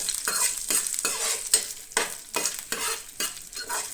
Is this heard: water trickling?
no